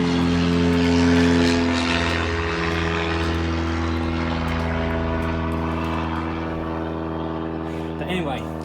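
A propeller airplane drones steadily overhead, a loud, even engine hum that holds for several seconds and fades slightly toward the end.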